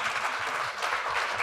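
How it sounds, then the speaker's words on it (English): A short burst of steady audience applause for speakers at a 3D design and motion talk in San Francisco, dense and even throughout with no voices over it. "let's give them a huge round of applause"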